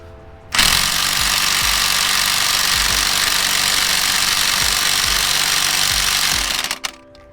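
An electric impact gun hammers on the crank bolt of a Honda Prelude, a loud, steady rattling burst of about six seconds that starts abruptly and stops, then brief clatter.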